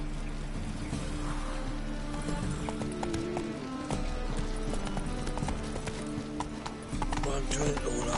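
Horse hooves clip-clopping in The Witcher 3: Wild Hunt, a steady rhythmic beat under game music, tavern-like ambience and talking voices.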